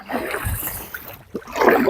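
A canoe or small boat being paddled over a mossy-bottomed lake, strokes swishing and splashing close by with quieter gaps between them.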